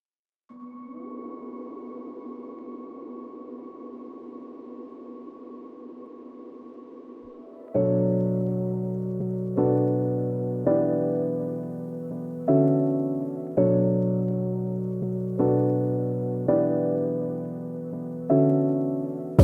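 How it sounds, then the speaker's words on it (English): A lofi hip-hop beat made in Ableton ends with a sustained reverb-soaked synth pad that gives way to looping, softly pulsing keys chords, each decaying into a long, large reverb wash. "I'm just going to up the size of the reverb and up the decay of the reverb"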